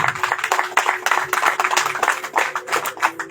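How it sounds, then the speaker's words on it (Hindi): Congregation members clap rhythmically together at a church gathering, a fairly close, steady patter of hands running the whole time. "खुशी से हम ताली बजाते हैं।"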